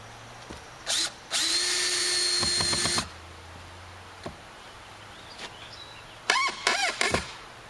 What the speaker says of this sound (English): You pre-drill whenever you nail or screw.